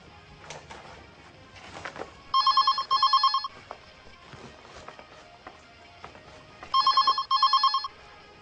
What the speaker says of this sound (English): Oh, the phone.